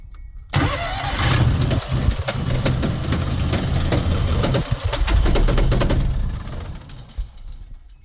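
The engine of a vintage 6x6 amphibious ATV cranks and catches, then settles into a loud buzzy idle with rattling clatter for several seconds before cutting off.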